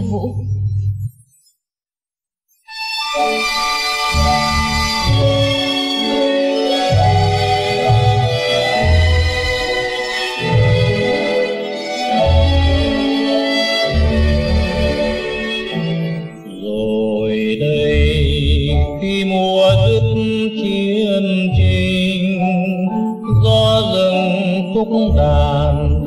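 Vietnamese song, a short pause and then a loud full instrumental accompaniment with rich sustained chords and steady rhythm, a prominent melody line running throughout.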